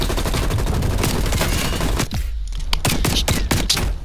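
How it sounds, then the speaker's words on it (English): Rapid, loud shotgun blasts and gunfire in a shooter video game, a dense barrage followed by several sharp separate bursts after a brief lull. "I get shotgunned again!"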